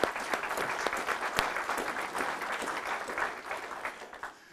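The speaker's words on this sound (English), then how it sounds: "let's give our candidates a round of applause" Audience applause for the candidates at a Jefferson County community candidate forum: a dense, steady wash of many hands clapping, sustained for several seconds before tapering off at the end.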